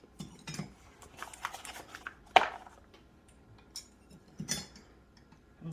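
Steak knives and cutlery clinking and rattling as they are handled and set into a kitchen drawer or rack, several sharp metallic taps spread out over a quiet room.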